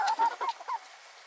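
A rooster gives a short, rasping call of four or five quick nasal honk-like notes, loud and close, then quickly fades out.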